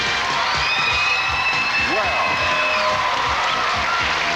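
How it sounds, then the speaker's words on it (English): A 1985 daytime game-show studio audience applauds and cheers for the host's entrance, a steady moderately loud roar of clapping with whoops, over a bright sustained music line. "You applaud as if you were on vacation or something."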